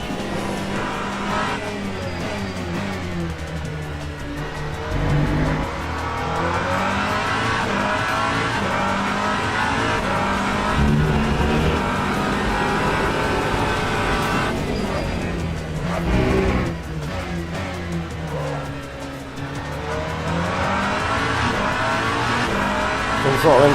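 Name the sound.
hypercar engine at full throttle in racing video game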